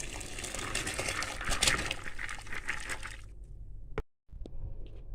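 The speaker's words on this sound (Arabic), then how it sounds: "وادي الميه اهي قدامي بتغلي، هفضيهم فيها" Soaked wheat grains are poured into a pot of boiling water, giving a continuous close splashing, gushing pour that stops abruptly near the end, followed by a couple of faint clinks.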